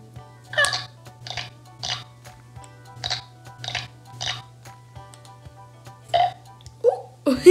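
Scruff a Luvs toy pet making a series of short, breathy burp-like sounds in a regular rhythm, close and fairly loud over a low steady electrical hum, with a couple of sharper squeaky bursts near the end.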